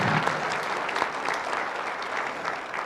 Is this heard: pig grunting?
no